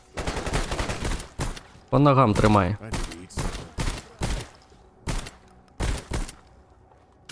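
Gunfire in S.T.A.L.K.E.R. GAMMA, sharp shots fired in short bursts and single cracks at irregular intervals, loud and close, with someone speaking briefly between them.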